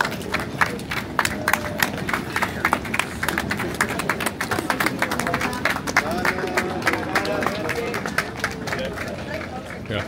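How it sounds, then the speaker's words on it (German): Scattered applause from spectators lining the route of the Verona Marathon, a rolling patter of clapping under running footsteps and someone talking close by throughout. "Ja, gibt schon den ersten Applaus"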